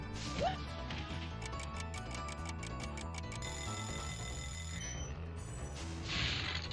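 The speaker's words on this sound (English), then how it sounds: "Just because that buzzer goes off doesn't necessarily mean the platform is lowered." A buzzer sounds in Spyro the Dragon, a steady electronic tone over busy game music with rhythmic ticking beats.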